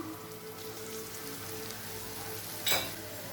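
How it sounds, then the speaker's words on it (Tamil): Carrot, capsicum and cabbage sautéing over a high flame, with a soft, steady sizzle throughout and one brief louder scrape or clatter near the end; no one speaks. "நல்லா ஹை ஃப்ளேம்லேயே வச்சு வதக்கிக்கோங்க"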